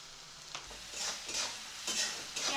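Onions frying in a pan until lightly reddish-brown sizzle steadily, with occasional scraping stirs breaking through the hiss.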